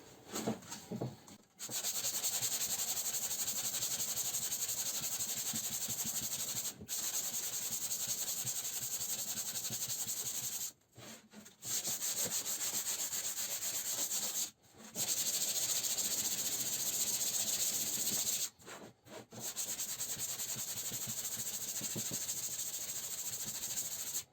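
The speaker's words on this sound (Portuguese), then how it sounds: "E a gente já pode voltar a lixar." Wood sanded by hand with folded sandpaper on a small block for a spice niche in a woodworking class, a continuous rasping hiss in long strokes broken by short pauses, close and fairly loud.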